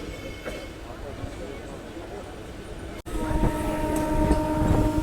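A local train on the Katwa to Howrah line slows as it enters Bally station, a steady rumble of wheels on rails that grows louder after a brief cut, with voices talking over it.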